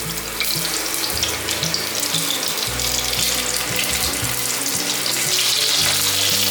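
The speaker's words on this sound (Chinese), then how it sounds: "把苦瓜放进来煎" Bitter gourd pieces drop into hot oil already flavoured with celery and ginger, setting off a loud, continuous frying hiss and crackle close to the pan, with a few soft bumps as the pieces settle.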